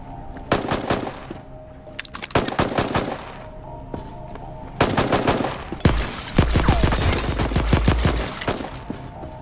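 Gunfire from the video game Voidtrain comes as rapid machine-gun bursts and sharp single shots in dense clusters, loud and close, with brief pauses between volleys.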